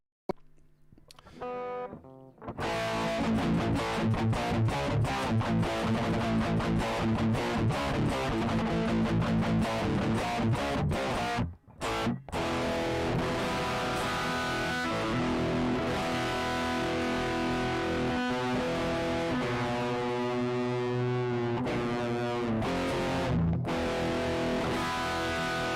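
An electric guitar plays through an IK Multimedia X-Drive digital distortion in an iOS app, giving a dense, saturated, sustained tone with strummed chords and brief stops, alone without talk.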